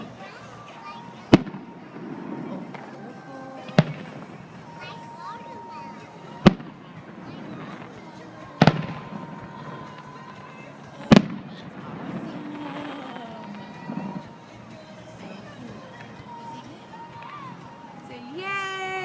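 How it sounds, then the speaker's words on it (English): A fireworks display at Salt River Field gives five sharp, loud bangs several seconds apart, followed by softer crackling, while children and adults talk and exclaim throughout. "Bye fireworks."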